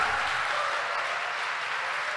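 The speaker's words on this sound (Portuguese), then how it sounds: "Pode dar uma salva de palmas para ele, que já pagou." Church congregation applauding during a Sunday Mass homily, a soft, even wash of many hands clapping at a distance, steady for the whole stretch with no voices over it.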